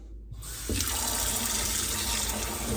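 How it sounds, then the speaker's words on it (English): Water gushes from a newly installed kitchen faucet into the sink, starting abruptly and settling into a steady, close, full splashing rush that continues to the end with no talking. "The water now runs just fine."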